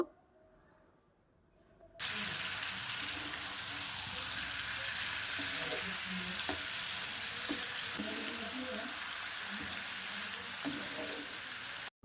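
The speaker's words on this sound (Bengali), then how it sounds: "ওই মাংসটা আমি দিয়ে দেব দিয়ে ভালো করে কষিয়ে নেব" Marinated chicken hits a hot pan after a brief quiet start, then a loud steady sizzle with repeated scraping and stirring of the meat runs to the end.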